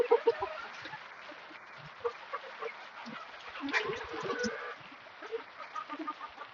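Chickens cluck softly and fairly close, with scattered pecking and shuffling sounds as the flock eats its last feed of the night.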